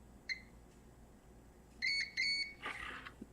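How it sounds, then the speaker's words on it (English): A multimeter in continuity mode gives a short electronic beep, then two longer beeps close together, over faint background hum, while testing cords on a truSDX radio kit build. "Set it to beeping mode."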